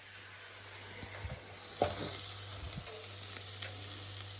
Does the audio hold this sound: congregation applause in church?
no